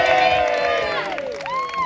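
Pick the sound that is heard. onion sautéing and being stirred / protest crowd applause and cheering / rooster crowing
protest crowd applause and cheering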